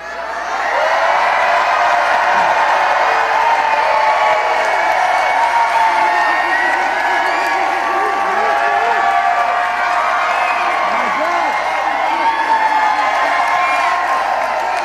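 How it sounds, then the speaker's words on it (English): Large crowd at a nighttime campaign rally roaring and cheering, with whoops and clapping in a loud, continuous wall of sound that runs unbroken throughout. "we got a great crowd here tonight"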